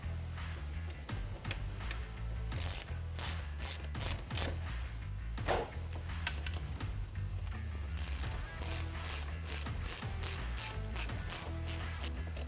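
A ratchet tightening bolts during a carriage yoke replacement, quick bursts of sharp clicking pawl ticks repeating close by over a low steady hum, with clusters coming in rhythmic runs.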